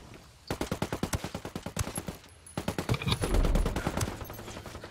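Rapid bursts of automatic gunfire in Ghost War, two long strings of evenly spaced loud shots separated by a short pause, with a heavier thump near the end.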